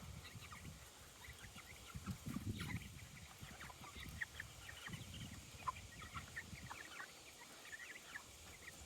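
Chickens on their first day out on pasture, clucking and calling faintly at a distance over a low outdoor rumble, with scattered short calls throughout.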